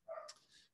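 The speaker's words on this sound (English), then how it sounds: "that's my dog barking in the background" A single dog gives a short, sharp bark in the background, a quick yelp with a brief trailing whine, fairly faint and distant.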